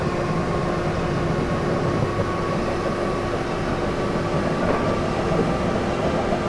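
A Class 313 electric train accelerating in the OpenBVE simulator on the North London Line, a steady loud rumble of wheels and traction with a faint tonal whine, constant and close, with no talking.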